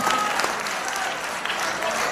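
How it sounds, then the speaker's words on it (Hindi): Audience at an Urdu mushaira poetry gathering for an Independence Day celebration at Jamia Millia Islamia, clapping in a continuous dense burst that stays fairly loud and even from start to finish. "ताली बजा"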